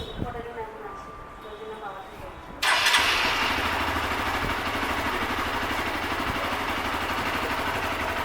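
A new Hero XPulse 200 4V motorcycle engine starts for the first time, catching abruptly partway through and then settling into a loud, steady, close idle, after a quieter stretch of background noise at the start.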